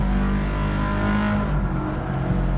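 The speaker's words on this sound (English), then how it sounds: "This car sounds amazing." A race car engine in Gran Turismo 7 on PS5 roars loudly and continuously, holding a high rev with slight shifts in pitch.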